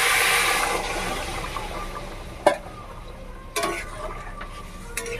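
Hot water pours into a pan of aloo potol masala, a hissing splash that fades into a softer bubbling simmer, with a couple of sharp clinks against the pan.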